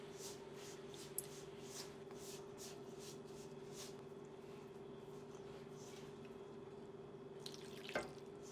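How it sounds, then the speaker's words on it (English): Water trickles slowly and faintly into semolina and fenugreek dough with a soft, steady flow, and there is a brief clatter near the end. "now slowly I'll start adding water until the dough comes together"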